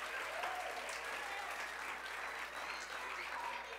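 A children's church service audience claps together in sustained, steady applause, with a dense, even patter lasting throughout at moderate distance.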